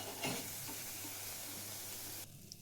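Pakoras deep-frying in hot oil give a steady, soft crackling hiss that continues without a break, close to the listener. It drops suddenly near the end.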